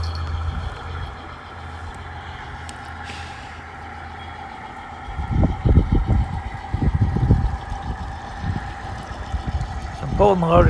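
A loaded garden railroad model train pulls cars out of a lumber mill siding outdoors, its rumbling motor and clattering wheels rising midway and continuing steadily near and fairly loud over a constant background hum.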